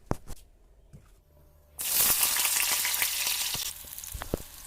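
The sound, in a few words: raw banana and potato frying with salt and turmeric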